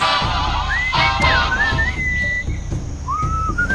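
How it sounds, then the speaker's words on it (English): A melodic whistled tune drifts over a steady musical backing with a beat in the Sam & Max video game, the whistle gliding up and down in short phrases. "What is that enchanting whistling sound?"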